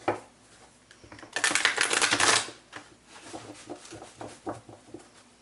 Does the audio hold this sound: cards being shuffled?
yes